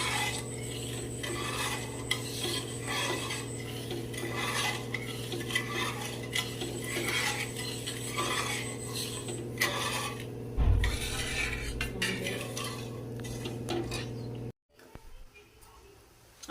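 A spoon stirs sugar syrup for gulab jamun in a pot, making soft, repeated scraping strokes that sound quiet and close against a steady kitchen hum.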